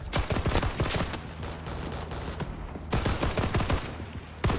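A B.A.R rifle fires in the Rising Storm 2 Vietnam video game: loud, close, rapid bursts of shots, a pause, then another burst, with battle noise underneath.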